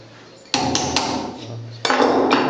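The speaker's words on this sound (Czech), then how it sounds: "Potom se do toho asi ťuknou kladivem." A hammer strikes a metal hip endoprosthesis twice, each blow a sharp close metallic clang that rings on briefly and then decays, the two hits about a second apart with no talk.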